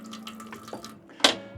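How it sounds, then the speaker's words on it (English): Filtered water tap running in a Supertramp Flagship camper during water system priming: a thin, steady stream of water splashing into a sink with a few sputters, then a sharper gush near the end. Nobody talks. "simply open your filtered water, Let that run for a little while, turn it on, turn it off"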